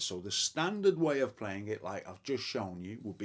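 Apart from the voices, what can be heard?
None of the usual background noises is heard.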